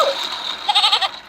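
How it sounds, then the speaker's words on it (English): A toy's recorded goat bleat plays as a short, nasal, wavering cry, close and fairly loud against a quiet background. "let's listen to the goat sound one more time"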